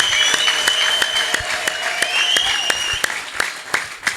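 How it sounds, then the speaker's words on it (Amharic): A church congregation at an Ethiopian prophetic service claps together in a steady, rhythmic beat, loud and close, with a bright tonal sound, like singing or music, running over the synchronized claps throughout. "ይቀጥል ጭብጨባው ለኢየሱስ"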